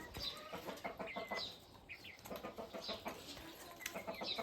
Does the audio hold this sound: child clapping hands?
no